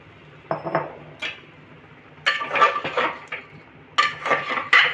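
A spoon scrapes and clinks against a pan while young jackfruit curry is stirred, with irregular bursts of metallic scraping close by and quiet gaps in between.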